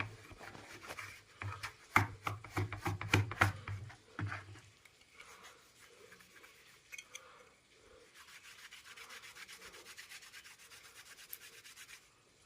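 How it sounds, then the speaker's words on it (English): Cotton cloth soaked in acetone thinner rubbing toner off a PCB, giving scratchy back-and-forth scrubbing that comes in brisk strokes early on and then settles into a softer, steady rubbing. "we can easily remove the toner from the PCB using a cotton cloth"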